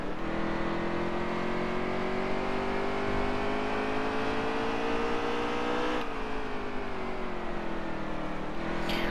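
A race car engine in the NASCAR Heat 3 game at Bristol drones loudly and steadily, its pitch climbing gradually, then dropping abruptly at a gear change before rising again, with no talking.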